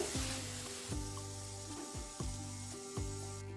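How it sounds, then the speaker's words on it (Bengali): Eggplant slices fry in a pan with a loud, steady sizzle, broken about once a second by sharp clatters as pieces are turned, with no talking. "এই বেগুনটাও আর একবার একটু উল্টে দিচ্ছি দেখুন বেগুনগুলো সুন্দর ভাজা হয়ে গেছে"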